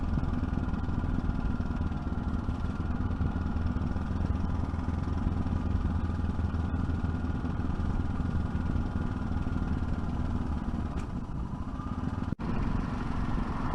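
Yamaha 660 Ténéré motorcycle ridden on open roads, its steady mid-range engine drone continuous and close under rushing wind noise, with a brief dip near the end.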